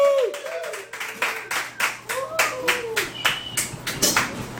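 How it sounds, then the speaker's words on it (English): A small comedy-club audience claps to welcome comedian John Maupin on stage, with scattered, uneven clapping mixed with a few voices calling out over it. "Thank you for the applause."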